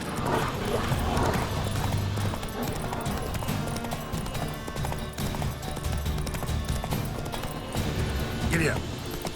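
Hooves of the horse Roach clip-clop at a steady gallop in the open-world game The Witcher 3: Wild Hunt, loud and continuous over a bed of game ambience and music.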